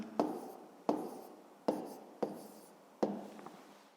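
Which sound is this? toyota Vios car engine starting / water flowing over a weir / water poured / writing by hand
writing by hand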